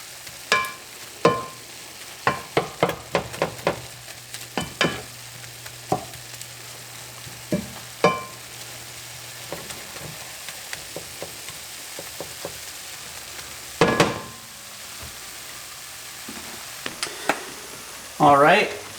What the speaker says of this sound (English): Now we're going to come back and check on our meat. It's browning up nicely.